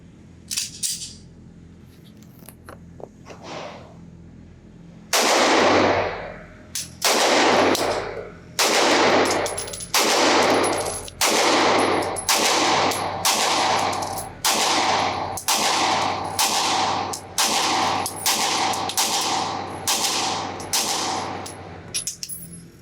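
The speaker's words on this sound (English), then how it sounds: "I'm going to set up the target at 7 yards, put 15 rounds through this thing, and these are my first shots" A Sig P320 AXG Scorpion metal-frame pistol fires about fifteen rounds at a target seven yards away on a range, each shot loud and close, evenly spaced about a second apart after a brief lead-in.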